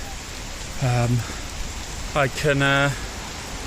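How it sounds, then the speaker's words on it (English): Rain falling outdoors in Dundee, a steady soft hiss running throughout beneath two brief bursts of a person talking. "It's raining quite a bit."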